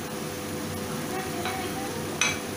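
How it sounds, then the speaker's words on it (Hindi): Potatoes frying with biryani masala in a pot for dum biryani filling, a continuous even sizzle with a faint scrape or clink near the end and no one talking. "इसको थोड़ा सा फ्राई कर लीजिए आलू के साथ 2-5 मिनट।"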